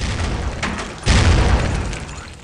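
A flashbang grenade bursts in the Critical Ops video game, a single loud boom rising from background game noise and decaying over about a second.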